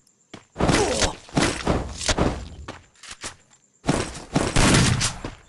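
Gunfire rattles in the video game Garena Free Fire in several close, loud bursts of rapid shots. Short gaps separate the bursts, and a longer pause comes midway.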